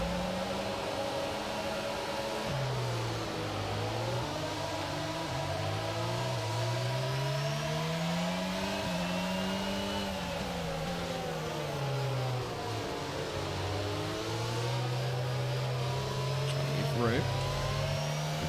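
An F1 22 race car launching at the start of a race in Brazil, with a loud sustained engine whose pitch climbs and drops through repeated gear changes while someone talks over it.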